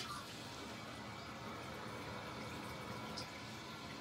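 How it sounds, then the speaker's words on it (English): A Crane Radcliffe siphon-jet toilet, prone to clogging, flushes with a steady, faint rush of swirling water throughout. "I wish it always flushed like this."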